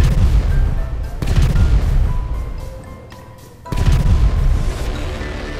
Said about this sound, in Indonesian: Sekarang kapal ini meledak pemirsa.